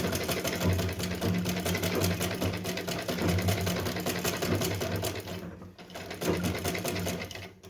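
A sewing machine runs a straight seam on a small Janmashtami dress for Laddu Gopal, a loud, close, steady rapid whir that stops briefly near the end.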